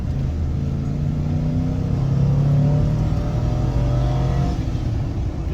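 A 2002 Chevy Silverado with the 5.3 engine accelerates on the road, its loud, close engine drone climbing steadily in pitch from inside the cab, with no talking.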